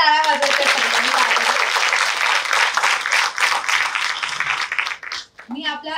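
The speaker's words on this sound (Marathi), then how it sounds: "जोरदार एकदा टाळ्या वाजवायच्या सगळ्यांनी." Audience applause fills a Sarthi Sanman award ceremony honouring women entrepreneurs: dense, sustained clapping for about five seconds, with a voice speaking briefly before it starts and again as it fades.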